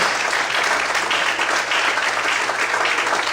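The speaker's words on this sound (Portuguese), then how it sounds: "glorificar e aplaudir ao nome do Senhor nessa noite" A church congregation at an evening worship service applauds steadily, a dense, sustained roar of many hands clapping together with no break.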